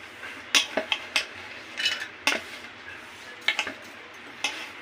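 Coconut pieces dropped and scraped into a steel mixer grinder jar, giving a series of sharp metallic clinks and knocks close by, spaced irregularly with quiet gaps between them.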